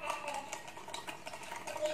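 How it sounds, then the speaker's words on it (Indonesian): A spoon stirs yeast, sugar and a little water in a bowl, giving a quick run of light clinking and scraping taps against the sides, close and fairly soft, with no voice over it. "Saya aduk ya."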